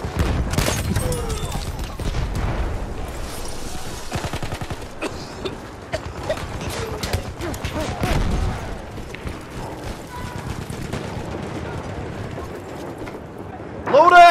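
SMG Sentry fire in Battlefield 1 comes in scattered, fairly faint bursts mixed with distant battle noise. A voice talks through much of it.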